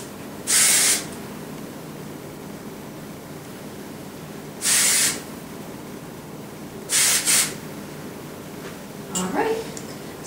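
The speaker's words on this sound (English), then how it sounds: "I'm just going to kind of go through with my hairspray in my hands" Four short bursts of hairspray hiss over styled hair, close and crisp, the last two coming in quick succession, with quiet background noise between them.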